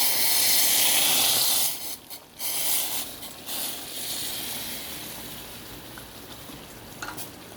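Water poured into a hot pan of frying vegetable curry of brinjal and beans gives a loud, bright hiss for about two seconds that drops abruptly into a softer, steady sizzle and simmer.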